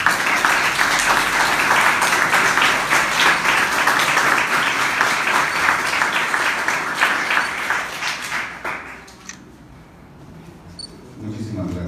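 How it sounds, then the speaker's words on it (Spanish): Sustained audience applause at a formal agreement-signing ceremony, a dense wash of many hands clapping loudly for several seconds before fading out, followed by a quieter room. "Fuerte el aplauso, por favor."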